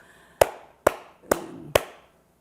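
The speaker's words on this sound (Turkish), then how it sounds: "Alkışlayarak tempo tutmak" Four sharp hand claps at an even, steady rhythm keep tempo during a Turkish word game show, each crisp and close with a short decay, then silence.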